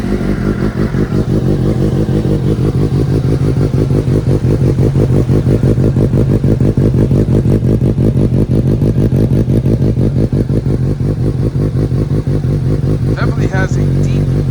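A 2019 Suzuki GSX-S750 motorcycle with a Yoshimura Alpha T exhaust idles steadily on first startup with a deep, rapid pulsing exhaust rumble, loud and close, holding a constant rhythm throughout.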